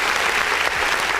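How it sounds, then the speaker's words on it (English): Applause sound effect triggered from a clap button during a music review show: a loud, dense, continuous crowd clapping with no pauses. "Let me go ahead and hit that clap button right there"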